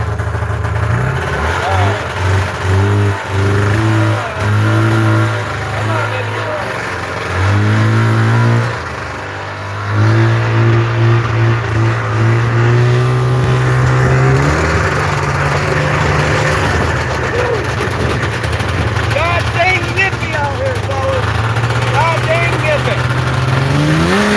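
An Arctic Cat Wildcat 700 snowmobile engine runs and revs loudly up close, its pitch rising and falling in uneven surges with a brief dip midway before climbing steadily higher.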